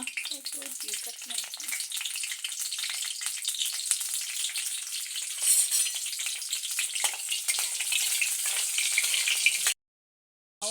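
Cut green chilies fry in hot cooking oil with a steady, bright crackling sizzle, close and unbroken until it cuts off abruptly near the end.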